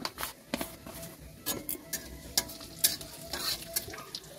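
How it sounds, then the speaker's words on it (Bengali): Cumin seeds, bay leaf and three dry red chilies frying in hot oil as a first tempering for duck curry, crackling and popping in quick bursts under scraping stirs, fairly quiet. "জিরেটা একটু ভালো করে ভাজা হোক"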